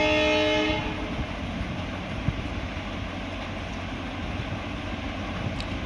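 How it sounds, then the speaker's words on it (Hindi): A train passes close to a railway station, a steady rumbling wash of rail noise at moderate loudness. A sustained horn tone sounds in the first second, and a faint short clank follows midway. "मैं रेलवे स्टेशन के पास रहता हूँ, तो थोड़ी ट्रेन की आवाज़ का आपको अनुभव होगा।"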